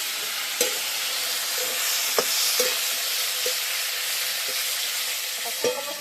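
Eggplant sizzles steadily in a hot pan, a dense close hiss with a few sharp ticks and scrapes of stirring scattered through, and no voices over it.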